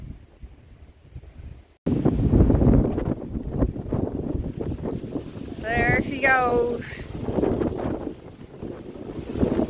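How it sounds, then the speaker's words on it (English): Strong wind gusts buffet a van ahead of Cyclone Alfred, with a loud, steady roar and heavy buffeting against the microphone after a quiet opening second; someone talks over it, and a brief rising chirpy call comes through midway. "it's getting really windy here now. Crazy windy."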